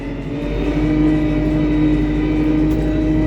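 A Lovol P4110 tractor engine holds a steady, loud revving drone on hand throttle, a constant close mechanical hum with no talking.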